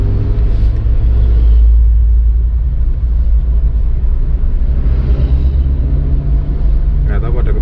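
Big trucks rumble in heavy road traffic on a Surabaya highway, a loud continuous low engine drone with passing swells, heard close throughout with a voice briefly near the end.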